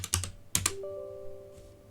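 Several quick close clicks of typing on a computer keyboard, two short bursts of keystrokes followed by a soft fading tone.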